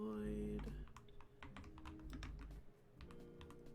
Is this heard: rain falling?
no